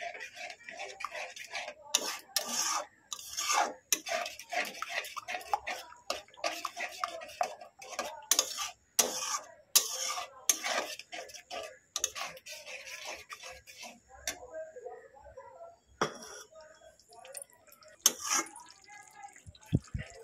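Yogurt and cauliflower rezala being stirred in a pan, with a spoon scraping and clinking against the metal in quick irregular strokes while the yogurt sizzles softly underneath, repeating steadily for a long stretch.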